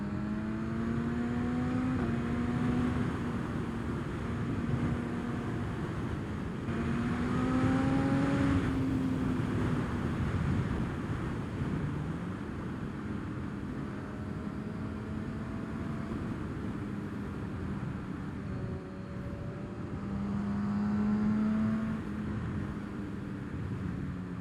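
A 2010 BMW S1000RR motorcycle rides on the road under engine braking, its engine note rising and falling through gear changes beneath steady wind rush, with no talk over it.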